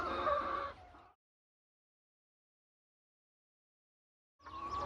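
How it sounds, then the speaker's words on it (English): Backyard chickens cluck in a short burst close by, then the sound cuts to silence before more clucking resumes at the end. "Do y'all consider this my chickens caged or uncaged?"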